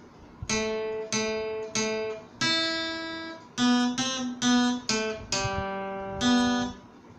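An electric guitar plays a tune, a simple melody of about a dozen plucked single notes, each ringing briefly before the next, clear and unaccompanied.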